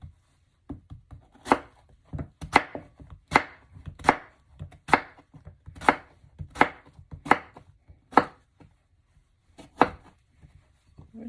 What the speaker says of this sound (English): so let's chop up the zucchini